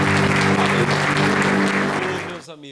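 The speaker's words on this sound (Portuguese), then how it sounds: "Vamos aplaudir ao Senhor." A church congregation applauds in a dense, loud burst of clapping, with tonal music or voices underneath, before the sound fades out abruptly near the end.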